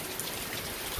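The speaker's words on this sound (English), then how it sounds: "it's raining pretty hard" Heavy rain falls at a lakehouse, a dense, even hiss of drops pattering on surfaces for a second, close and steady with no voices.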